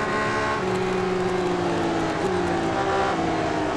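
A V10 Spider race car engine in Real Racing 3 drones steadily at high revs, a continuous loud whine with a brief pitch shift midway, heard alone.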